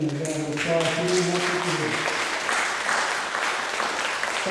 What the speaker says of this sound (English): Let's give Evan Friedman a round of applause